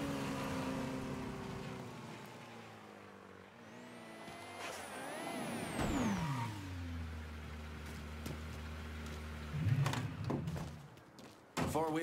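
Car engine in Mafia III as a delivered car pulls up, a low engine hum that rises and falls with a passing whine, then a throaty rev, a short thump and a closing clunk.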